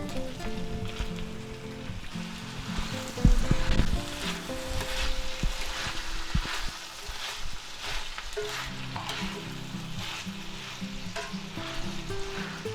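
Vegetables sizzle and crackle loudly in a pan over medium-low heat for a pheasant and quail stir-fry, with steady frying noise, occasional stirring scrapes and a brief louder burst partway through.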